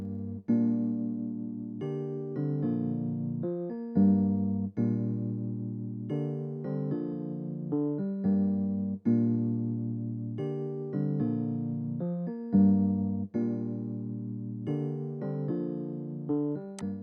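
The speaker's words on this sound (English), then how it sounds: "The first one is from Harmless. This is the E piano B" Layered electric piano keys built from Harmless and Lounge Lizard E piano sounds play sustained Afrobeat chords in a repeating progression, warm and moderately quiet, with no talking.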